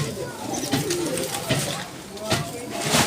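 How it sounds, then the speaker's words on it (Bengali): White Chuina pigeon cooing amid the bustle of a weekly pigeon market at Demra Sarulia, with soft repeated coos under steady crowd chatter and nearby voices throughout. "এটা সাদা চুইনা কবুতর।"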